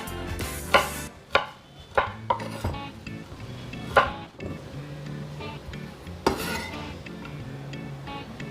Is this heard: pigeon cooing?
no